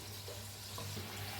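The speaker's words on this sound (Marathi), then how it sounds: "मी साईडला चांगलं तळून घेऊया आपण" Karanji pastries frying in hot oil, a steady soft sizzle and bubbling hiss close by, continuous and even throughout, with no talking.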